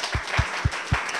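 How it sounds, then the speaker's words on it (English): Audience clapping at a startup event in Tallahassee, a short burst of crowd applause with several distinct claps standing out in a rough rhythm. "Clap it up if you do."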